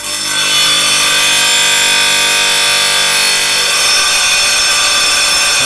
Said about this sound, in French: Donc ça c'est une scie diamantée